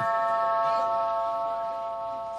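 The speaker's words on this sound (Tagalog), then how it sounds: "Doorbell. Ayan, nag-doorbell na." A doorbell chimes with a steady, layered electronic tone that holds evenly for about two seconds and fades slightly toward the end, heard indoors with no voices.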